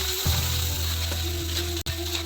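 Spices stir-fry in a hot pan as filling is prepared for mini egg martabak and risoles, a steady loud sizzle with a low hum beneath and occasional scraping of stirring.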